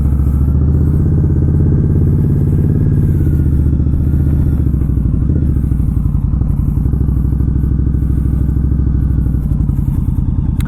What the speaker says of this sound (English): This motorcycle has ABS. I'm just going to take it around the parking lot here.